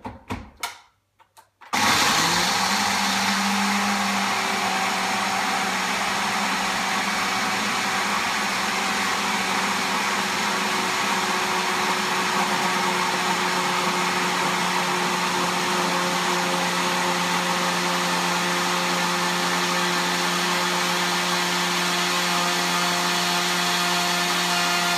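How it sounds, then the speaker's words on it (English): A countertop blender roars to life after a few clicks and whirs loudly and steadily for a long stretch, mixing a Shakeology shake, close and alone. "Plop it in there and blend for like a minute."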